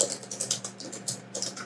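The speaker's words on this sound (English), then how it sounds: "I'll type it." Fingers tap quickly on a computer keyboard, a close run of crisp, clicky keystrokes in short bursts with brief pauses, heard alone.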